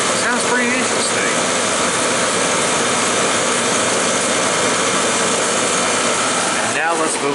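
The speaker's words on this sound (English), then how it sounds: "You can hear the air compressor pretty much." The compressor of a vintage GE (General Electric) air conditioner runs close by, a loud, continuous mechanical hum and rumble that holds steady throughout.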